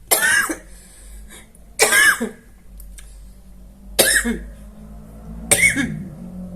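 Four harsh coughing fits spaced about two seconds apart, each a loud, raspy burst close to the microphone, with quiet low hum between them.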